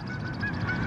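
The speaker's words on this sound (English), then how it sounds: "What's that? Bird." A bird calls faintly in the open outdoors, a few short honk-like tones like a goose's, set against steady background noise.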